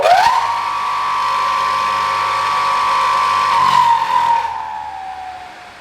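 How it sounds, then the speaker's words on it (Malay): A HYCO miter saw with an AC induction motor spins up to a steady, loud whine, holds it for several seconds, then winds down as the motor coasts to a stop. "Yang ni induction motor."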